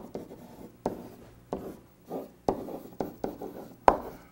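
Pen or pencil writing a list by hand on paper, heard as close, distinct scratchy strokes in irregular bursts with short pauses between, quiet and alone.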